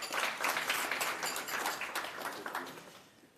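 Audience applause at a business breakfast after a provincial address: a dense patter of many hands clapping together, moderately distant, holding steady and then thinning and fading toward the end.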